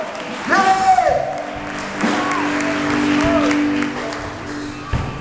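Church congregation applauding, a broad wash of clapping with cheers and whoops mixed in, filling the room under voices that shout and talk over it.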